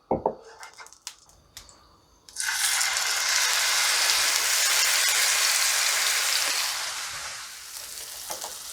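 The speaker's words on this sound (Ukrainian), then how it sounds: "тепер його треба гарненько обсмажити бажано на смальці" Marinated pork meets hot lard in a pan with a sudden loud sizzle that settles into a steady, close, crackling fry. A few knocks and clatters come first as the meat is handled.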